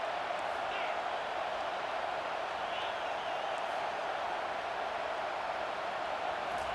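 Stadium crowd in the EA Sports College Football 25 video game, a steady broad roar with faint whoops, continuous and even behind commentary.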